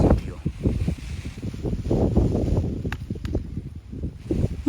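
Strong wind gusts during a rainstorm, buffeting the microphone with a heavy, uneven low rumble that surges and eases in waves, fairly close and loud.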